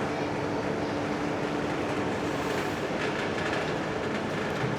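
A train runs past with a steady, dense roar and rumble of wheels on rails, loud and continuous throughout, with no pauses and no one talking.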